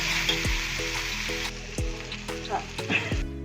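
Dal, onion, green chilli and garlic fry in hot oil with a bright, continuous sizzle, punctuated by a few stirring scrapes and clinks of a spatula, close and fairly loud.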